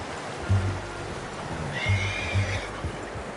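A horse in the video game Red Dead Redemption whinnies twice in quick succession, loud and close, over a steady rain-like background hiss.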